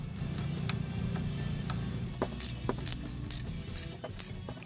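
A ratchet clicks in short bursts as a bolt is tightened on the brake hose bracket of a Dodge Avenger during wheel bearing work, over a steady background hum.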